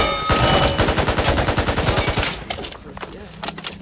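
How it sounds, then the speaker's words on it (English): An AK-47 assault rifle in the video game Back 4 Blood fires a rapid automatic burst of loud, closely spaced shots for about two and a half seconds, then stops, leaving quieter game sounds behind. "Now let's go with the next assault rifle, the AK."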